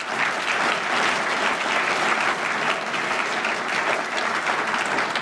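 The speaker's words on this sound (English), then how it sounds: "Let's give them another round of applause." A chamber of commerce annual meeting crowd breaks into sustained applause, dense even clapping that holds at a steady loud level for several seconds.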